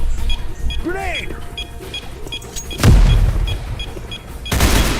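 A grenade bursts in a video game with a loud booming blast near the middle, following synthetic whooshing and beeping game sounds, and a second heavy burst closes the moment.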